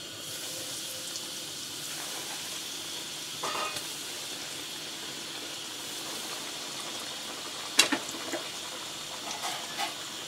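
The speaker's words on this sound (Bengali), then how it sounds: "এখন আমি ফিঙ্গারগুলি ভাজব," Pangas fish fingers fry in a pan of oil with a soft, continuous sizzle, quiet and close, with occasional clinks and one sharper clatter, and no one speaking.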